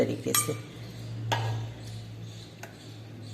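Glass, ceramic and steel bowls clink as they are filled for Bengali mishti doi, with a few sharp taps scattered over a low steady hum and faint background noise.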